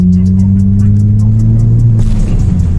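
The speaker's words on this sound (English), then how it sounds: "as you can hear, that's the exhaust I've got right now." A corroded Hyundai Accent exhaust rumbles steadily up close with a low, throaty drone, then the tone roughens and shifts partway through as the engine revs.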